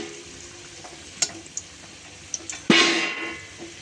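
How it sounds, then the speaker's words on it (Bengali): Potatoes fry in oil with a soft background sizzle, broken by a few faint clicks and one louder burst of spitting sizzle near the end. "আলু ভাজা হয়ে গেছে, আলুগুলো উঠে দিই"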